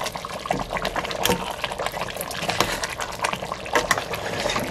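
Spicy braised beef short ribs simmering in a reduced broth in a pot after about an hour of cooking, bubbling and popping steadily up close with an uneven, lively rhythm.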